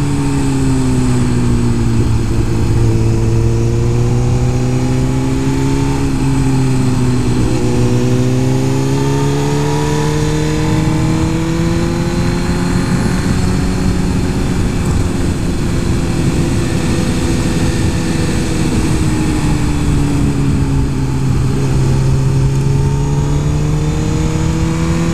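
Onboard engine roar of a Suzuki GSX-R1000 superbike accelerating out of corners, the pitch repeatedly dipping and climbing in smooth waves over a long, continuous, loud drone.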